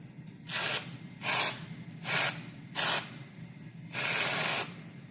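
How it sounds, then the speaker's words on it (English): Five bursts of pressurized spraying hiss from a can of whipped cream, four short puffs then one longer spray, close and distinct against a quiet background. "Now you're going to take your spray whipped Cool cream"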